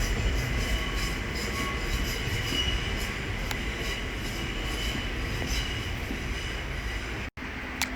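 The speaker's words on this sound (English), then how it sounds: "there is an Avanti West Coast pairing of Class 2 to 1 Super Voyagers from London Euston to Birmingham New Street" Paired Avanti West Coast Class 221 Super Voyager diesel units running from London Euston to Birmingham New Street pass close on the West Coast Main Line at Willesden Junction, a loud steady rail roar with wheel noise that holds throughout before cutting off briefly near the end.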